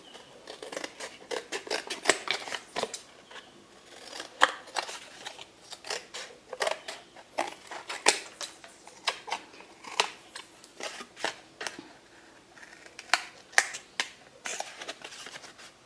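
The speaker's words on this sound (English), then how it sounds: "I'll cut this one out and then I'll cut the other ones off screen." Scissors cutting out paper pictures: a series of sharp, crisp snips in irregular bursts, close and clear, with no talking.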